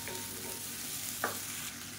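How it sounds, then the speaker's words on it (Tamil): About three chopped medium tomatoes sautéed with onion in a pan for a chutney, a steady close sizzle with a brief stirring scrape near the middle and no talk. "இப்போ இதையும் சேர்த்து நல்லா வதக்கிக்கலாம்."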